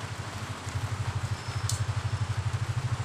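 Motorcycle engine idling during repair work, a steady close putter with even rhythmic pulses, briefly uneven near the start.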